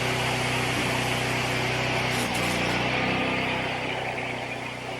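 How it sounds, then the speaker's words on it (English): Steady electric welding buzz while a bracket is welded up on the bench for a 27 ton Champion log splitter, a continuous loud drone with a steady hum that holds throughout. "I'm going to go and finish welding this up along these here and under here"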